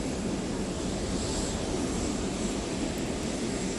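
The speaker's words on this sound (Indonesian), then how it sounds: "Airbus 330 bernomor penerbangan GA7780 ini akan segera berangkat" Garuda Indonesia Airbus A330 jet engines at an airport give a steady, loud broadband roar that holds without a break and carries no voices.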